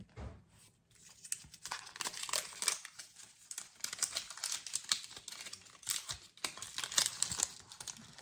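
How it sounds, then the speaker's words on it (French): Paper crinkles and rustles close by in irregular bursts, rising and falling for several seconds, with no talking. "Désolée pour les bruits du papier."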